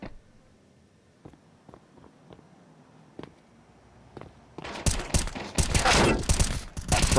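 Gunfire in a Counter-Strike 2 professional match, with a few sparse sharp shots and then a loud, dense volley of rapid firing.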